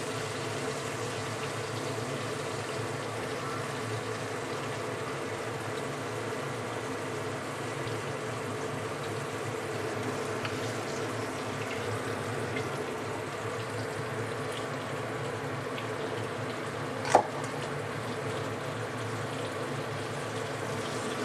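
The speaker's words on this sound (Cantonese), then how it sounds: "咁我哋咧就要炸呢個蟹殼啦" A crab shell deep-fries in hot oil for traditional typhoon shelter style crab, giving a long, even bubbling hiss at moderate volume with one brief clink partway through.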